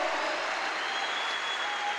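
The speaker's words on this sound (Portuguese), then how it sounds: "Pode aplaudir ao Senhor." Dense, steady applause from a church congregation fills the whole moment at a fairly even level, a continuous wash of many hands clapping with no break.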